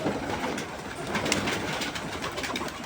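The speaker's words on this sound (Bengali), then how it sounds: "পায়রা আসছে একটা, এই পায়রাটা নতুন" Madras pigeon cooing close by, soft repeated throaty coos over a continuous low background rumble, with no talking.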